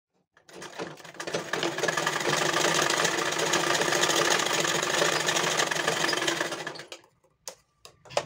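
A sewing machine runs a long continuous stitch while shirring elastic onto a child's frock, a close, loud, even mechanical whir with rapid ticking that stops abruptly, followed by a few handling taps.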